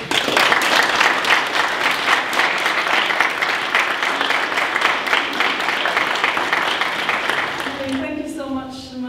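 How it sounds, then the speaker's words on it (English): Sustained applause from an audience at a professorial lecture, a dense wash of clapping that holds steady for several seconds before a voice begins speaking at the end. "if you would put your hands together and give a round of applause"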